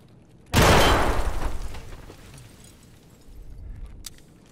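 A grenade in a shooter video game bursts with a sudden loud blast that decays over a second into a rumbling tail, followed by low rumble and a faint distant crack.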